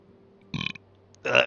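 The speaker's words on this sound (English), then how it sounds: "Stream burp." Two short, close belches come from a person streaming a game, one loud burst followed a moment later by a second, against quiet game background.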